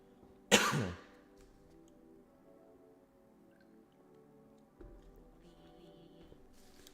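One sharp, close cough from a person with a congested nose, followed by quiet room tone and faint rustling.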